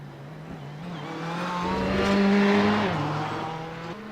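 A Ferrari race car driving at Monza during a race, its engine tone climbing as it approaches, peaking loudly as it passes close by, then fading away, heard alone without talk.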